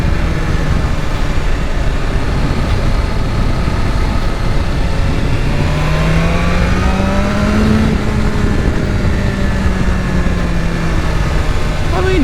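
A stock-exhaust 2023 BMW S1000RR motorcycle revving on a track, a loud, continuous engine drone with rising and falling rev sweeps in the middle, under steady wind noise, with a voice talking over it.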